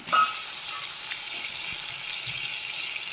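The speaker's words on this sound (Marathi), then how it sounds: "हे आता मी टोमॅटो टाकून देते" Tomatoes hit a hot pan for a chana dal and mushroom curry and sizzle steadily. The hiss is soft and continuous, with a faint clink near the start and no talking.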